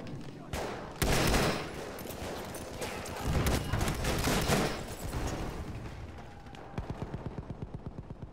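Gunfire from the video game Battlefield 1 rattles in loud, dense bursts with heavy booming shots, ending in a rapid, evenly spaced machine-gun volley.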